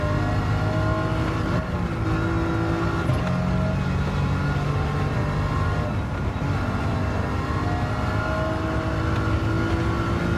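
A BMW race car's engine drones steadily at high speed in a racing video game, a loud, continuous harmonic roar with the pitch rising and shifting slightly as it pulls hard down a straight.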